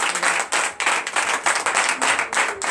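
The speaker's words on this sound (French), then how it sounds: "Donc je vous demande d'applaudir très fort." A church congregation at a Sunday service in Comè, Benin claps loudly in a quick, steady rhythm, producing a dense wall of hand claps close by with no talking over it.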